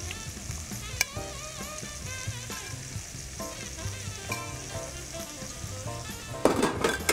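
Sliced mushrooms and rocket sizzling in a hot pan, a steady crackling fry close by, with occasional utensil taps and stirring, and a louder burst of scraping near the end.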